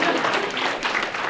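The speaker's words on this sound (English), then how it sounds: "Clap for that one." An audience applauds after an idea for a flying red car with a jacuzzi is proposed, giving a steady wash of clapping that holds at an even level for just over a second.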